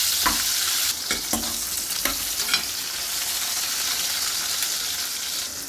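Pointed gourd frying in hot oil with mustard seeds, cumin and asafoetida, a steady bright sizzle punctuated by several sharp scraping clacks of a spoon stirring in the first few seconds, then continuous frying alone.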